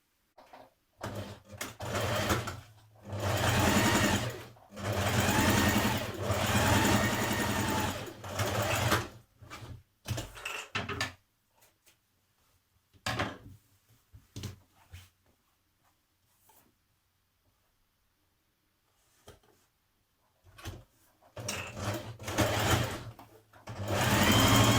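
A sewing machine runs close by as it stitches a seam on lounge trousers, whirring steadily in several long bursts with brief pauses. A long quiet stretch with faint clicks and handling sits between the bursts.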